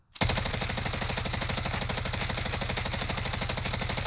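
Bruen Mk9 light machine gun in the Modern Warfare video game firing a sustained full-auto burst, a fast, even stream of loud, close shots running the whole length with no talking.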